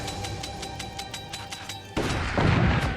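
A laser beam weapon fires in the strategy game Forts, heard as a steady buzzing, pulsing drone that abruptly shifts into a louder, rougher blast and rumble partway through, with no talking.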